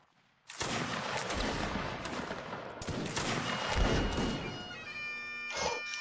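Musket volley fire from a line battle in a video game, loud overlapping shots and crackling reports bursting in after a quiet start, sustained with rolling booms and a few tonal game sounds near the end.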